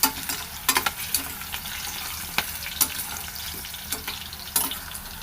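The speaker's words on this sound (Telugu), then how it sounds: "నెక్స్ట్ మనం ఆనియన్, పచ్చిమిర్చి యాడ్ చేసుకుందాం. ఒకసారి కలుపుకుందాం. ఒక నిమిషం వేపనిద్దాం." Onion and green chili frying in a pan over onion paste, a soft continuous sizzle punctuated by irregular sharp clicks and scrapes of stirring, close by, no talking.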